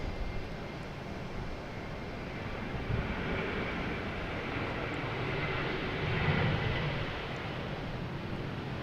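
Steady broadband rumble and roar of a Boeing 777-300 arriving at Boston Logan International Airport after a long flight from Seoul, Korea, swelling slightly louder near the end with no voices.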